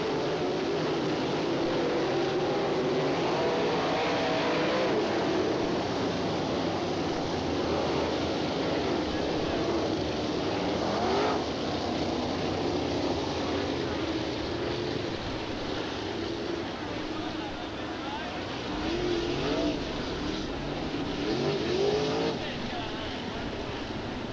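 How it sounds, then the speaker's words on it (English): Sprint cars roar at Attica Raceway Park in Ohio during a 1995 Speedweek finale, a dense, continuous engine drone with swelling passes throughout, with a race announcer talking over it. "Opening round, here they come. And we have a couple cars getting involved on the front stretch."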